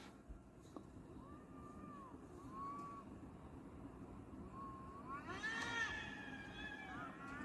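Cats call out around an apartment complex at dawn, with thin wavering meows at first and a louder, drawn-out yowl near the end, set against a constant low rumble of distant noise.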